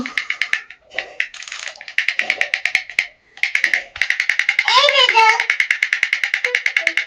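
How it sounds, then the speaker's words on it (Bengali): Children clap their hands in a fast, steady run of sharp claps close by, broken by short pauses, with a voice briefly mixed in. "হাততালি"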